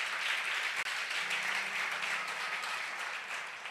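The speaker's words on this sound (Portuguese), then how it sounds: "Você pode aplaudir ao Senhor nessa noite?" A church congregation applauds during an evening worship service, a steady, dense wash of clapping held at even loudness throughout, with a faint low hum underneath.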